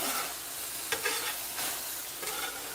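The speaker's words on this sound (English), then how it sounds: "get it back over there sizzling" Steady, loud sizzling of ground beef frying on a hot griddle, with a couple of scraping stirs breaking through the hiss.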